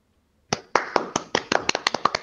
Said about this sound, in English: You can do thumbs up, guys, or clapping hands.